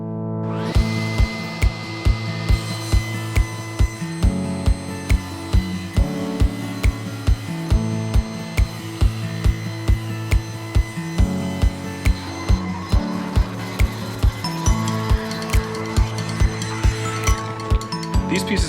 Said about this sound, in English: These pieces have made their first pass through the table saw